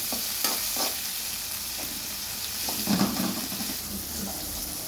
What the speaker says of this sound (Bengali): এরপর ভালো মতো এটাকে ভেজে নিব।